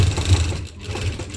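A domestic sewing machine runs in a short burst of low, fluttering motor rumble while stitching a fabric strip, close and steady with no talk.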